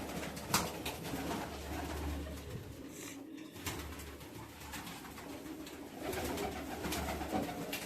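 Soft, low cooing of low-flyer pigeons in a large loft continues throughout amid dense background noise and flutters, with occasional louder clicks and rustles.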